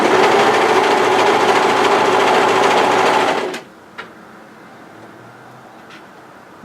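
An overlocker runs loud and steady at close range for a few seconds while stitching a cardigan seam, then stops abruptly, leaving a quiet room with a couple of small clicks.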